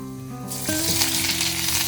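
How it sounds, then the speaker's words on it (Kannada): Mustard and spices for a tempering hitting hot oil, a loud broadband sizzle bursting in after a brief hum and building into steady crackling frying with no voices. "ಇದು ಅಷ್ಟೊತ್ತಿಗೆ ಒಗ್ಗರಣೆ ಸಿಡೀತಿದ್ದು, ಸ್ವಲ್ಪ ಒಗ್ಗರಣೆ ಹಾಕೊಂಡ್ಬಿಡೋಣ"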